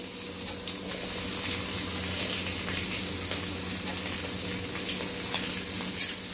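Green chilies hit hot oil in a pan while thin poha chivda is being made, giving a loud, steady close sizzle with light stirring scrapes and a few sharp pops.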